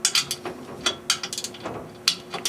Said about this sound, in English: Ah, the torque wrench.